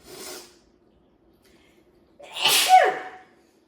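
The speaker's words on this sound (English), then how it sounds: "I have to sneeze so bad." A short sharp inhale followed by a single loud, close sneeze, then quiet.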